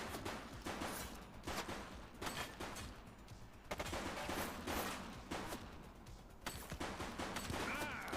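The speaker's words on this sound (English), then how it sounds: "He's shooting!" Rapid gunfire rattles through a police shootout with a suspect in the video game The Precinct, dense overlapping shots repeating steadily and loudly for the whole stretch.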